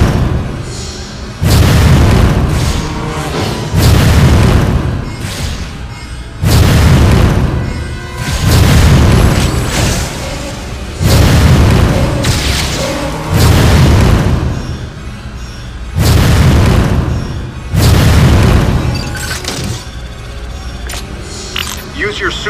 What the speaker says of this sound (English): blast the eruption port to get the magma flowing